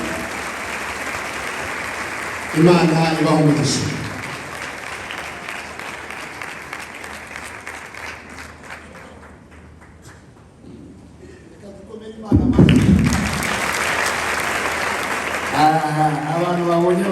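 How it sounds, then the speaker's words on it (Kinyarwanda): Wedding guests in a church applaud as the bishop walks forward, a steady roar of clapping that swells loudly at the start, fades toward the middle and surges back near the end, with an officiant speaking over it throughout. "Dukoma amashi cyane Bishop atambuka."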